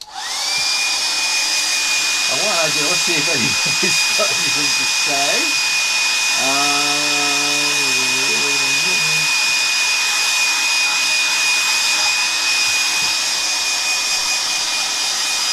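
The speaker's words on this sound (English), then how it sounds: "I'm going to get my hairdryer again." A hair dryer roars steadily and loudly throughout, its high whine constant while a person talks briefly over it.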